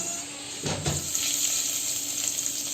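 Chopped garlic hitting hot oil for a tempering tadka, a sudden sizzle that flares up and settles into a steady, close frying hiss, with a stir or clink near the start and no talking.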